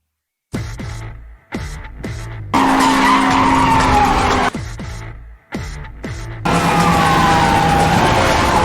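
Racing cars in Need For Speed Hot Pursuit Remastered skid in repeated loud bursts of tire screech, with short gaps between them, and then long sustained squeals over a roaring engine.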